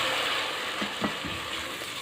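Tomato puree hitting a hot pan for fried egg masala, giving a steady broad sizzle throughout with a couple of faint clinks.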